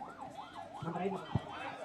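A police vehicle's siren wails in a steady rising-and-falling cycle along a road crowded with vehicles during a PMK party rally, loud and close, with a brief thump near the end.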